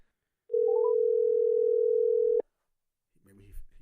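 A steady electronic telephone tone rings out clear and loud for about two seconds on an outgoing call, then stops with a click, followed by a voice starting to talk.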